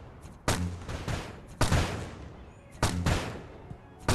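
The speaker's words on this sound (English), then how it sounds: "with this power, you can shoot cannonballs from everywhere" Cannonball shots fired from a power in a video game: four sharp, loud booms at uneven intervals, each trailing into a short rumble, with quieter thuds between them and no talk.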